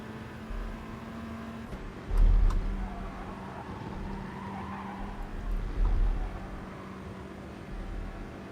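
A race car engine from the GT Sport racing game hums along with tire squeal. Two louder surges come as the car upshifts early and accelerates, at a moderate level without talk.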